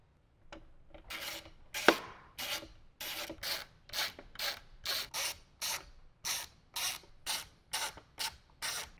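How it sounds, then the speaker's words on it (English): A 3/16 Allen key loosens the four corner bolts of a 2014-or-later Harley-Davidson motorcycle radio, giving a rhythmic series of short scraping, ratcheting turns, with one sharper metallic click near the start, close and clear without speech. "We're going to use a 3/16 Allen to remove four bolts"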